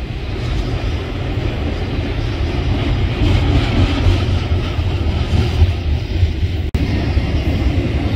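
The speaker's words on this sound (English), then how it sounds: "As this train leaves" La Posada geometry train pulling out of Winslow, a loud, steady rumble of wheels and engine that holds its volume throughout without a break, close by, with no talk.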